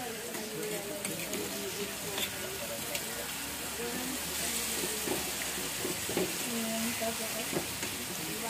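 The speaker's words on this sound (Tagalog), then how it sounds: "Prito muna natin ang tuyo bago ganyan" Dried fish (tuyo) frying in a pan sizzles and crackles steadily, with voices talking faintly over it.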